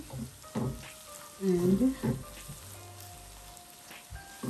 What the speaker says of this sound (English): you can see that our eggs frying very well